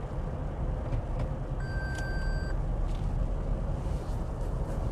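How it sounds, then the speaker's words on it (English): A Toyota Mirai gives a single clear electronic beep on being shifted into neutral while driving, a short tone lasting under a second over steady road and cabin rumble. "So the beep you hear is every time I put it in neutral."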